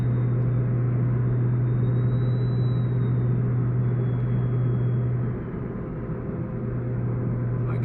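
A car fitted with a T51R mod drones loudly and steadily while cruising, a constant low rumble with little change, easing slightly near the end.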